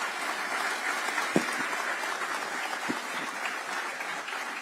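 Audience applause at a public event in Maharashtra attended by the Union Home Minister: a dense, steady wash of clapping from a large crowd, holding level throughout with a couple of sharper claps standing out.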